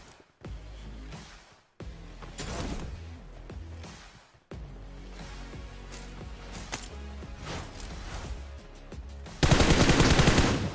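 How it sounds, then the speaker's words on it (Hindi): Gunfire in the mobile battle-royale game BGMI, several bursts of rapid automatic shots with short pauses, ending in a loud dense barrage; no talk. "पीछे से हमारे स्नाइपर चली थी"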